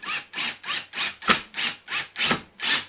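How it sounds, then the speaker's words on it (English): A screw is driven into a tree trunk by hand to fasten a fox or lynx snare, giving about nine even, rhythmic grinding, creaking strokes up close with no talk. "you secure that with a screw"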